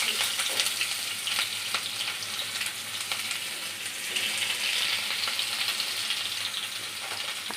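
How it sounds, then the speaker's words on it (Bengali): Onions sizzling and frying in a pan for a home-cooked dal tempering, a steady close crackling hiss with occasional stirring scrapes, no talk. "নাও পেঁয়াজটা ভাজি।"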